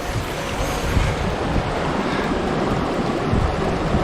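Creek water rushing at a bush track crossing near Ironstone Mountain and Western Creek Falls in Tasmania, a steady, loud broadband wash that fills the whole stretch with no voices over it.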